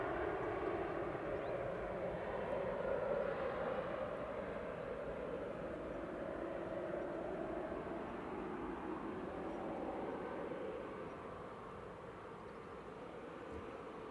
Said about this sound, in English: Lufthansa City on the roll to Munich, the AIJN and A320neo,